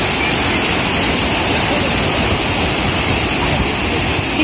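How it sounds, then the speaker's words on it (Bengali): Rough sea surf crashes at Mandarmani beach under a cloudy sky, a loud, unbroken roar of breaking waves that fills the whole stretch with no voices heard. "দেখুন উত্তাল সমুদ্র, আর আকাশে মেঘ করে রয়েছে।"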